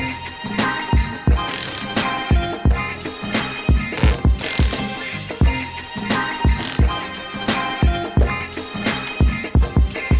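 Torx T25 screws being worked loose from a carbon fibre GT3 RS steering wheel, a rapid series of sharp clicking ratchet strokes with occasional bright metallic clinks, close and continuous, no voices.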